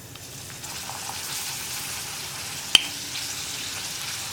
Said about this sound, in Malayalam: ഇപ്പോൾ വെളിച്ചെണ്ണ നന്നായിട്ട് ചൂടായി വന്നിട്ടുണ്ട് നമുക്കിതിലേക്ക് പപ്പടം ഇട്ട് കൊടുക്കാം